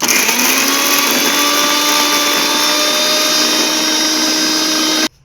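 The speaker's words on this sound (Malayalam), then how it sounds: "ആദ്യം നമുക്ക് ഇതൊന്ന് അടിച്ചെടുക്കണം മിക്സിയിൽ" A loud, steady motorized whir of an electric mixer grinder blending gooseberries and chilies runs continuously, then cuts off abruptly near the end.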